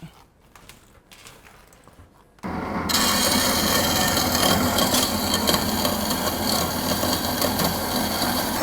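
A metal turbo up pipe is cut on a six-cylinder turbo build: the cutting starts abruptly after a quiet moment and runs as a loud, steady, harsh rasping grind close by, with no talk over it.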